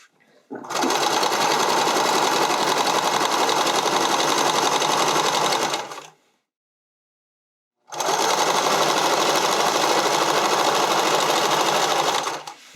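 Sewing machine running continuously while stitching elastic into a garment neckline, a loud steady whir for about five seconds, then a short pause as the machine stops, then resuming with the same even drone.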